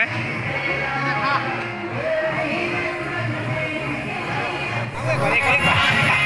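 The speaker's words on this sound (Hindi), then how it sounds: "माता रानी के दरबार में बहुत ज़्यादा भीड़ हो चुका है" An evening crowd fills the courtyard of the Maa Vaishno Devi temple, with dense murmuring chatter and occasional calls forming a continuous hubbub while someone speaks nearby.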